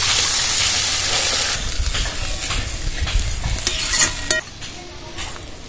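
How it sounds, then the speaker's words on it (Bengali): Spinach curry with slit green chilies fries in a pan as a little water goes in, giving a loud hiss and sizzle that gradually settles into a softer bubbling simmer, with light stirring clinks near the end. "একটু জল দিয়ে দেবো"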